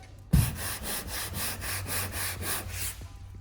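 A hand rubs across dirt on the body panel of a Mazda Miata being prepped for paint, an abrupt start followed by a series of rhythmic scratchy strokes, close and steady, with no talk.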